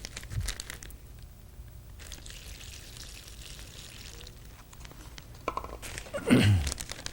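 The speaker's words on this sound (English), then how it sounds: "I'll fold the paper up" A sheet of newspaper being folded and handled during a magic trick, with rustling and crinkling close by, a quiet stretch in the middle and a louder crumpling burst near the end.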